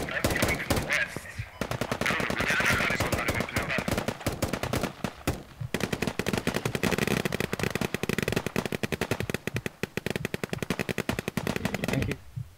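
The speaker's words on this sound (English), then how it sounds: "Someone else firing. I'm here, I'm shooting at them." Rapid bursts of automatic gunfire and single shots from a Squad firefight in the Kohat Toi river valley, loud and nearly continuous for about twelve seconds with brief lulls.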